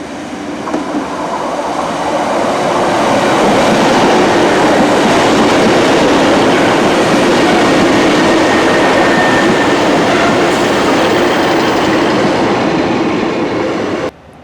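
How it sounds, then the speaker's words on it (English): Trains pass through Hazel Grove station in a loud, sustained rumble. Rhythmic wheel clatter and a faint high squeal sit on top, and the roar swells and holds for most of the pass before cutting off at the end. "we're going to be filming a few more trains here"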